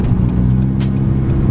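A Nissan car rolls along an uneven road full of bumps and divots, its engine humming steadily under a close, continuous low road rumble, with no voices.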